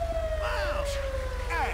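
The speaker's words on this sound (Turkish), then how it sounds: "İtfaiye geldi ama söndürecek mi bakalım?" A fire engine siren in the video game GTA 5 wails with a steady rising-and-falling tone, close and fairly loud, joined by brief whooping sweeps near the end.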